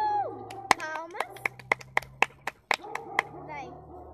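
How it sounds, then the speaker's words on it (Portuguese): A run of about ten sharp hand claps in a quick, steady rhythm, close and crisp, with voices talking and chanting around them. "palmas."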